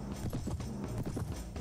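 Horse archers galloping across a battlefield in a video game, with rapid clip-clop hoofbeats layered into a dense, continuous rumble of many horses close by.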